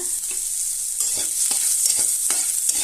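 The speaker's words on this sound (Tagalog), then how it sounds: "umpisa na natin ang ating pagigisa sa ating pinagprituhan. Ito pang ating bawang." Garlic sizzles steadily in leftover oil from frying milkfish, a bright continuous hiss close up. Soft periodic scrapes of stirring run under it and no one speaks.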